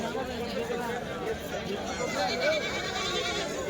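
Goats bleat amid the hubbub of a village goat market, brief cries rising over a dense background of crowd chatter.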